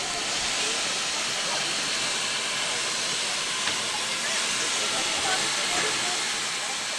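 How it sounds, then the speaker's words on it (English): Baldwin steam locomotive of the Virginia and Truckee railroad standing at the Virginia City station, venting a steady broad hiss of steam that fills the whole stretch, with faint crowd murmur underneath. "Here's a shot of our locomotive that just hauled us up the hill. It's a big Baldwin locomotive."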